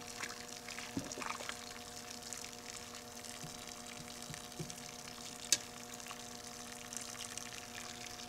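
A pump recirculating water through a homebrew mash at about 145 degrees, heard as a steady low hum with a faint trickle of pouring liquid and a few small clicks, close and continuous.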